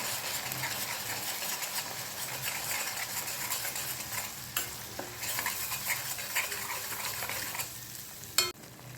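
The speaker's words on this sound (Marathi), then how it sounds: "मसाला तेलामध्ये छान परतून घ्यायचा आहे आपल्याला" Dry masala of turmeric, coriander powder and chili powder sautéed in oil, a continuous quiet sizzle with occasional spoon scrapes and a sharp clink near the end, close and without voices.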